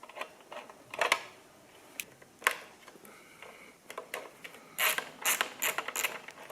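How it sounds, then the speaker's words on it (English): A 12mm wrench works a nut on a motorcycle, producing irregular metallic clicks and ratcheting taps up close, with a denser cluster of clicks near the end. "12mm wrench for this nut."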